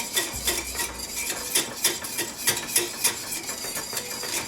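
A whisk beats sauce for honey lemon chicken in a pan with fast, rhythmic metallic clinks and scrapes against the sides, steady and close-up, with no talking.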